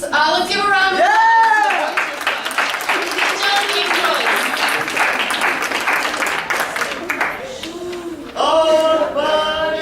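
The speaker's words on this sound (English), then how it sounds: "Let's give a round of applause." A school Christmas program audience applauds after a carol, clapping mixed with loud overlapping voices and cheering, with a stretch of talk rising over the clapping near the end.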